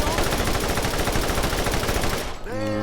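A Scorpio turret in Borderlands firing a dense, loud, unbroken stream of rounds, which cuts off near the end into a short electronic tone.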